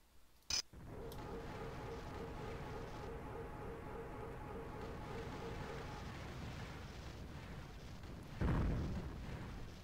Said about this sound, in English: Their little bullshit cannons are really obnoxious.